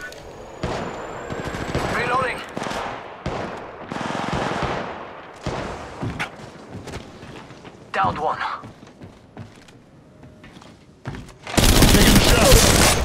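Gunfire in the mobile shooter Apex Legends Mobile, with bursts and single shots scattered among pauses and a dense loud volley near the end; voices talk over parts of it.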